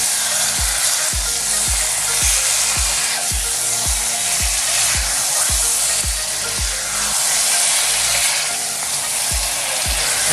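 Lamb and vegetables for a curry cooking over very high heat, a loud, unbroken hiss of sizzling with a regular series of low knocks, about one every half second, nearby and without speech.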